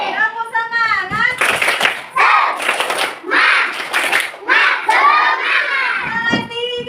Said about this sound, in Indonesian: Tepuk tangan dulu buat Mia.